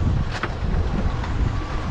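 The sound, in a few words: wind blowing on the coast while fishing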